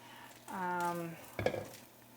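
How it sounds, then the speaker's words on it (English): Eggplant goes into a hot frying pan, a short sizzle with a clatter of pan and utensil, faint and close, after a brief sustained vocal tone. "Adding the eggplant."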